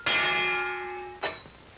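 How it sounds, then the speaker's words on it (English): A boxing ring bell in a 1940s radio drama fight scene: one loud, ringing clang that sustains and slowly fades, then a second, softer strike, with no voices. "And here's the bell!"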